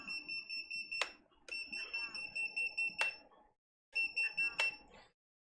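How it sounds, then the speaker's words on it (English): An electronic beeper on a homemade circuit with overcurrent protection: rapid trains of shrill, steady tonal beeps in three bursts separated by short gaps, with sharp clicks between them, close and moderately loud. "So I have my beeper."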